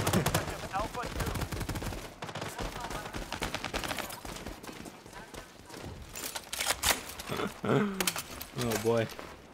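Pecheneg light machine gun in World War 3 firing in dense, rapid automatic bursts nearly throughout, loud and close, with short pauses and a voice talking over the shooting near the end.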